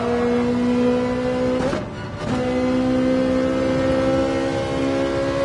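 A race car engine in Gran Turismo 7 holds a steady high drone, then briefly drops off and cuts back in before droning on at a constant pitch, loud and alone.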